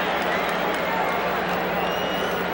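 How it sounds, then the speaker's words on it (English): A baseball stadium crowd at a World Series game raises a mock cheer, a broad, sustained roar of many voices filling the ballpark, with a steady wash of crowd noise and a commentator's voice faintly over it. "And now a mock cheer."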